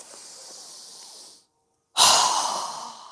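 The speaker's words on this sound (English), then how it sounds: "exhale with a strong breath with our mouth open wide" A breathing exercise during a yoga session: a long breath hisses steadily, a short pause of silence follows, then a forceful open-mouthed exhale bursts out loud and close before tapering off.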